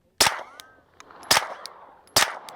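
A suppressed handgun firing 115 grain ammunition: three sharp, loud shots spaced about a second apart, each with a short ringing tail, close by and with no talk.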